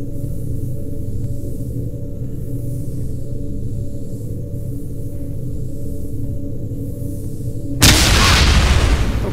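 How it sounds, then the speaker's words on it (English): A grenade exploding in a VR video game, a sudden loud broadband blast near the end after a steady low rumbling game ambience. "I just dropped a grenade on myself."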